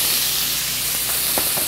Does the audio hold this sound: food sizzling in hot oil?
yes